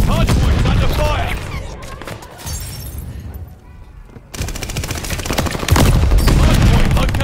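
Loud, close gunfire in Call of Duty Vanguard multiplayer, with rapid automatic bursts and shattering impacts that break off briefly in the middle and then return hard, while game announcer voices shout over it.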